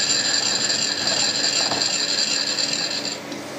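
A milling machine dividing head turning to the next gear tooth while cutting a gear: a steady, loud mechanical ratcheting whir held for about three seconds, then easing off.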